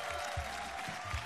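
Studio audience applause at an X Factor Romania event, a brief wash of crowd clapping and cheering behind a continuous tone, fairly faint and dense.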